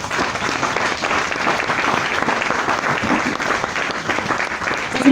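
A church congregation applauds to acclaim the Lord, a dense, sustained round of clapping from many hands filling the room with a continuous roar.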